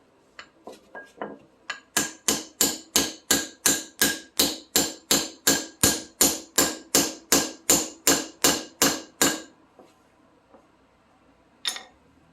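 Metallic hammer strikes ring out in a steady run of about twenty evenly spaced blows on a 1991 Toyota MR2 front suspension assembly, close and loud, followed by a few lighter taps.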